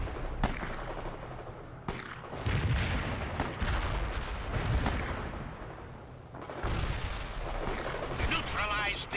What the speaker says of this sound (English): You can just hear our snipers going to work with every single infantry unit they